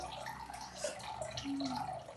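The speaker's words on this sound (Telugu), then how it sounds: "ఒక బౌల్ తీసుకుందాం, దాంట్లో వాటర్ తీసుకుందాం" Water poured into a bowl at home, a faint, steady trickling and gurgling stream that lasts the whole moment, close by and unaccompanied by talk.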